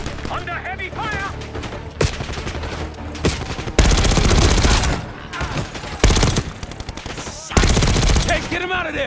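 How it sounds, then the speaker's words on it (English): Heavy gunfire rattles in Black Ops 6, with loud bursts of automatic fire and several sharp blasts in a chaotic battle, under occasional shouted game dialogue. "C4! Under heavy fire!"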